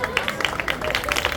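An audience at a Marathi comedy hypnotism stage show claps in quick, uneven bursts, a steady patter of applause filling the room.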